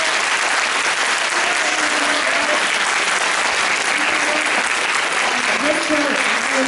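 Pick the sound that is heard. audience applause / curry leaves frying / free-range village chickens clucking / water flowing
audience applause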